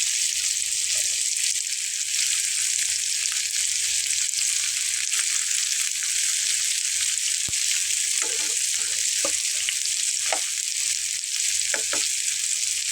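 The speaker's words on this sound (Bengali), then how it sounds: "এখন আমি এখানে রসুনটাও অ্যাড করে দিচ্ছি।" Garlic frying in mustard oil, a bright, dense sizzle holding steady and loud throughout, with a few soft clicks of a utensil and no talk.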